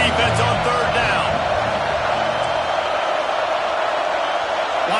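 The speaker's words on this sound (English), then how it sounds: "Decibels rising as the crowd gets behind this defense on 3rd down." A college football stadium crowd roaring for the defense on third down at Texas A&M versus Arkansas, a steady dense wall of cheering noise, with an announcer talking over it.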